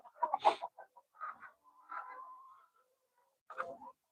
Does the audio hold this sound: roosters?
yes